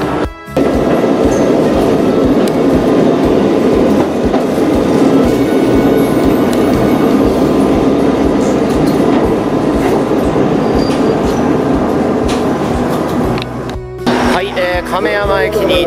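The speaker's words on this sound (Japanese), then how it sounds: "では普通列車の亀山行き、ワンマン列車です。" A local one-man train bound for Kameyama, Japan, rumbles steadily from inside the car, with rhythmic wheel clatter and hum; an onboard announcement voice speaks over the noise.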